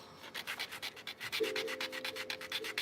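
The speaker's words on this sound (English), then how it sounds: "Filing my nails down so I can play the tabs" Fingernails are filed with a nail file in quick, even back-and-forth scrapes, about six strokes per second, close and faint, with a soft tone in the background partway through.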